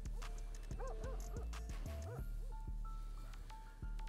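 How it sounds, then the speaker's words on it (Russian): Several dogs at a shepherds' mountain camp in Dagestan bark and yip close by in quick, irregular bursts, with whining notes between barks, over a steady low rumble. "Хабиб, собаки, я тебе советую быстрее подняться."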